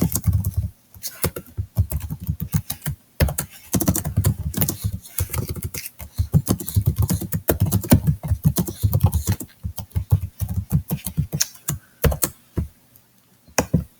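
Someone types a message on a computer keyboard, a loud, close, rapid run of clicky keystrokes in bursts with brief pauses, alone without talking.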